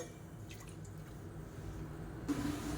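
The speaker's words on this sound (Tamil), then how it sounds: "ஒரு 5 டம்ளர் அளவுக்கு தண்ணி சேர்த்துக்கலாம்" Water poured from a tumbler into a cooker of small onions and lentils for tiffin sambar, a soft steady liquid splash and drip, close and quiet, with no talking.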